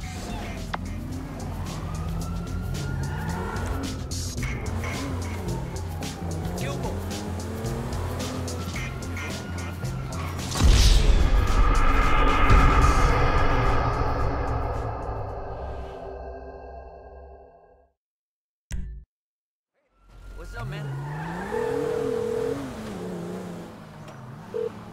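Cars racing in a high-speed police chase in GTA V, with wailing sirens sweeping up and down, engines roaring and tires squealing, a loud crash-like burst midway, then a sudden near silence before the sirens return.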